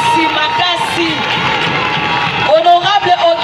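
An audience at a political gathering in Kinshasa breaks into cheering and clapping, a busy crowd roar with shouts, while a voice speaks over it.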